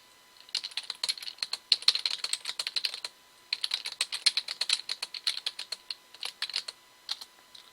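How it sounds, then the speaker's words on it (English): Someone types on a computer keyboard for a chat message, a quick, irregular run of crisp key clicks in bursts with a short pause midway, close and fairly clear with no talking. "I just typed something in the chat, see if it pops up anywhere for you guys"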